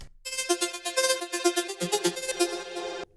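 A bright, buzzy future rave synth lead plays a quick, bouncy pattern of notes with a jump at the end, then cuts off abruptly.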